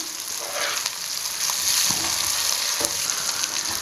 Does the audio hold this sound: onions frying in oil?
yes